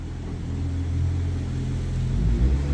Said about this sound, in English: Sorry for the loud cars driving by.